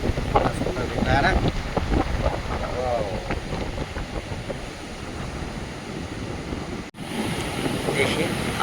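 Strong ocean waves roll against the shore at Diu, a loud, continuous wash of surf rumbling under heavy wind buffeting the microphone, with no voices.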